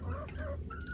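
Chickens cluck close by inside a hoop house coop, a steady overlapping chatter of several hens with short rising and falling calls and no voices.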